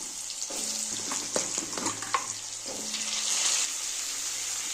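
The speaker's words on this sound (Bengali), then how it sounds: "দেখো এখন না আমি পটল আলুগুলো ভেজে নেব" Pointed gourd and potato pieces fry in oil for a prawn curry, making a loud continuous sizzle up close with occasional clacks of a stirring utensil against the pan.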